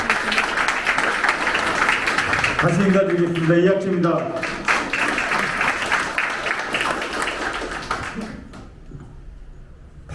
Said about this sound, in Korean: 힘찬 박수로 환영해 주시기 바랍니다